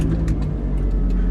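An abandoned, bargain-bought Audi S3 8L runs with a steady, low engine rumble heard close from the cabin, an even drone without clear revving.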